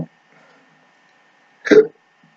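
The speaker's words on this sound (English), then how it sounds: "Excuse me. Getting hiccups." A single sharp hiccup from a man in an otherwise quiet room, one short abrupt burst close to the microphone.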